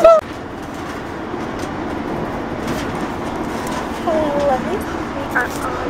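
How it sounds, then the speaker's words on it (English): Steady rumbling and rattling of a train running along the rails, heard from inside a carriage, with people talking over the noise. "we are on the train to go to Brighton"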